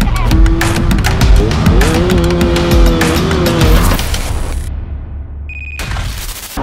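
A motorcycle fitted with a KBRS Racing aftermarket exhaust revs hard and loud, its engine pitch rising and falling over several seconds before cutting off abruptly near the end, with brief outdoor noise after.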